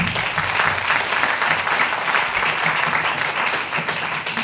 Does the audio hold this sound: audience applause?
yes